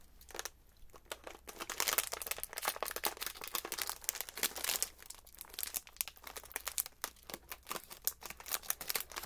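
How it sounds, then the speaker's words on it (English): A foil snack package crinkles and crumples close up, a continuous dense rustle with irregular sharp crackles and louder bursts throughout, with no voice. "We have our little foil package to keep them fresh."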